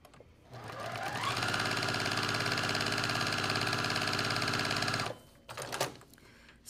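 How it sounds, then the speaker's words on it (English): A sewing machine stitches quilt pieces with a short stitch length, running in one steady, loud whir for about four and a half seconds, then stopping and giving a brief second burst. "So I'll just take these and we'll sew all four real quick."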